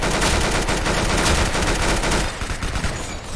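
Rapid bursts of gunfire from the Roblox shooter game Arsenal, loud and dense, with automatic weapon fire rattling continuously before easing off toward the end.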